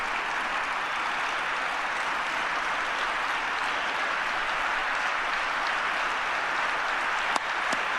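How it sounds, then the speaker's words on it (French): Sustained standing-ovation applause for Donald Trump in Riyadh, a broad, steady roar of many hands clapping from a large crowd, heard at a moderate distance with no voices. "Une ovation debout."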